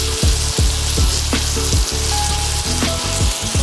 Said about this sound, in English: We're going to allow these to cook just a few more minutes because I want to make sure they're finished in the middle.